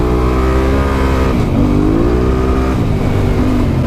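A Holden Brumby ute's engine revving hard and loud up close during a skid, a continuous roar with rising and falling pitch and no talk over it.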